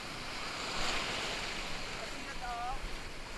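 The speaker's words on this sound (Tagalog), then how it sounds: "Ang lakas ng tubig" Strong river water rushes steadily and loudly close by outdoors, a broad continuous roar mixed with wind buffeting the microphone.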